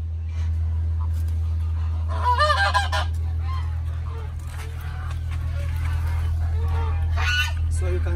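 Several Chinese geese honk in loud bursts on a goose farm over a steady low hum, with a few scattered calls in between and some faint background noise.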